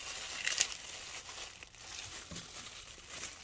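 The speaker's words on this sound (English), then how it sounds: "take these guys and just peel each leaf off individually" Roselle hibiscus calyxes are peeled by hand leaf by leaf, making faint, close crinkling and soft tearing sounds in a quiet room.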